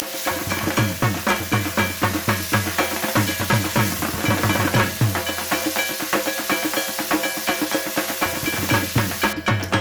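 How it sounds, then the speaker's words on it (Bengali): Prawns fry in hot oil with a continuous, loud crackling sizzle that runs steadily for ten seconds, dense pops over a constant hiss, close to the pan. "এবারে প্রথমে তেলের মধ্যে মাছগুলোকে আমাদের ভেজে নিতে হবে।"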